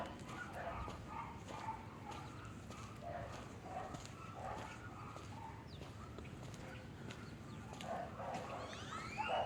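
A dog barks in a series of faint, repeated woofs at a distance, evenly spaced over a quiet outdoor background with a few birds.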